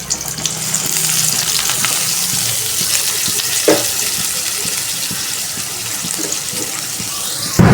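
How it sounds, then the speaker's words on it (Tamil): Onions frying in hot oil for a prawn thokku make a loud, constant hiss, close and dense, with small crackles and stirring scrapes throughout. "எண்ணெய் வந்து காஞ்சிடுச்சு வெங்காயம் வந்து போட்டுக்கலாம்"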